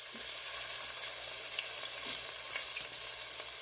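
Meat sizzling and frying steadily in a hot pan after being flipped, a continuous close hiss with faint pops and a light stir, no talking.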